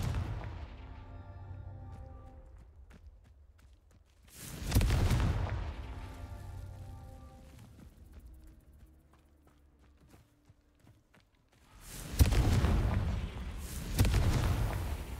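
Fiery Confringo spell blasts in the Hogwarts Legacy video game: two loud explosive bursts, the second followed by rumbling impacts, separated by quieter game ambience with tonal music.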